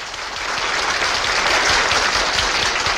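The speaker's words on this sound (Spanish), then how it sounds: "estallaba una gran ovación" A great ovation after a Shostakovich symphony in a radio drama, thunderous massed applause from a large concert audience, loud, dense and unbroken throughout.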